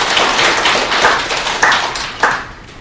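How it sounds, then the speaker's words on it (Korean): A small group claps in welcome at a press conference, a thin scattering of claps with a few sharper individual hits standing out near the end. "다 같이 박수로 환영해 주세요."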